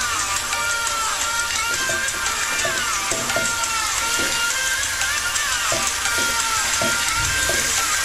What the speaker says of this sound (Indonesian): Sambil kita tumis semuanya hingga bumbu dan sayur manisannya tercampur merata ya teman-teman.